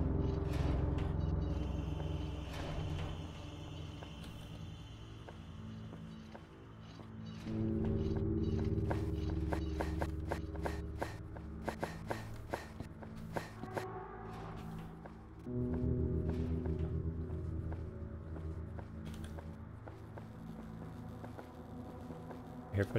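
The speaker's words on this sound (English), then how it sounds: "I hear footsteps." Footsteps in the Shadows of Time video game, a steady run of clicking, clopping steps over a low droning background, pausing briefly and then resuming.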